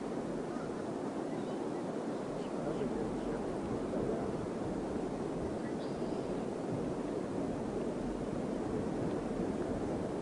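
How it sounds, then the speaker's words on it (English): Ocean surf from a nearby beach heard on the Oak Island golf course, a steady broad wash of waves mixed with gusting wind noise on the microphone, constant and fairly loud. "I can hear the beach from here."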